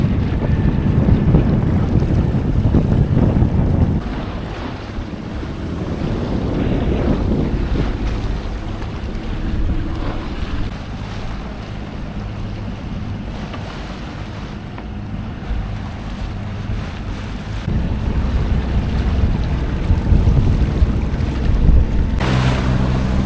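A sailboat glides under gentle wind on a coastal passage from Vigo toward Viana do Castelo, with steady wind buffeting the microphone and water rushing along the hull, swelling and easing over time.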